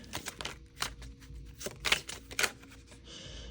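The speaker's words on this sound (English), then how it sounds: "I pre-shuffle all these decks." A tarot card deck is shuffled close up in irregular bursts of riffling and flicking cards, some sharp clusters louder than others, ending in a brief soft hiss, with no talking.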